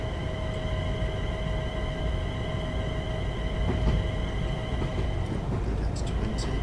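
A Class 380 electric train on the Cathcart Circle in Train Sim World 4, a steady rolling rumble with a sustained high wheel squeal and faint clicks over points.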